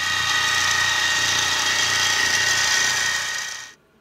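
A Harbor Freight mini mill cuts metal stock with a loud steady whine and motor drone that carries on unbroken, then stops abruptly near the end.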